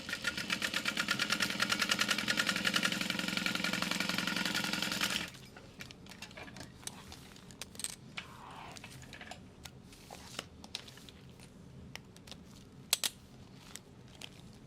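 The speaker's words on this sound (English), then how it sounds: "when sewing with clear vinyl" Sewing machine stitching through clear vinyl for a beauty bag, a fast, even mechanical whir running for about five seconds before stopping, followed by quiet scattered handling clicks.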